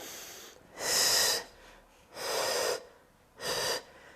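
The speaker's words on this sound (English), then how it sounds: "So you'll hear me breathing, okay?" Three loud, forceful breaths in a row, heavy rasping exhales spaced about a second apart, close to the listener, like someone working hard during a balance and strength exercise.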